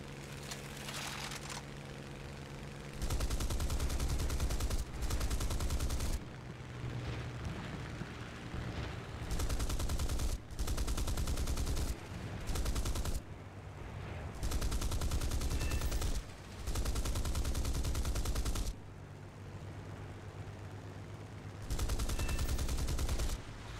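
Rapid bursts of fighter plane cannon fire in a video game air battle against a bomber, several loud sustained volleys separated by short pauses, with engine drone underneath.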